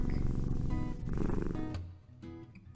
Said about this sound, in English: she can hear him purring in the dark